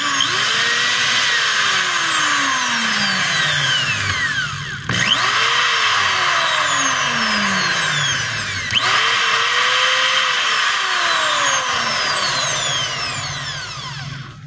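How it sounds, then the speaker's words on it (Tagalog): A DeWalt 3/8-inch drill runs in three sustained whirring bursts, each spinning up and winding down, with brief pauses between them; loud and close with no talking. "Tingnan natin kung maganda yung andar, hindi ba siya masiklab."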